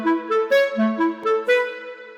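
Unfiltered, sharp clarinet line leading into a summer pop drop: a short bouncing melodic figure of smooth, reedy sustained notes, played clearly and fairly loud with no other instruments.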